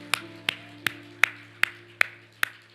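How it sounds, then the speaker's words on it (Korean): Rhythmic congregational clapping at a church festival worship service, seven sharp claps in a steady, even beat over sustained music tones, moderately close. "하나님께 박수"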